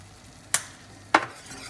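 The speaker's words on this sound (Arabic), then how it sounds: "وبضل بحرك لحتى يسمك عندي البشاميل" Spoon scraping twice through thickening béchamel sauce in a pan for chicken crepes, two short separate strokes close by over a faint background hum.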